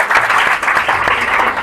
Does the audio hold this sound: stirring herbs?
no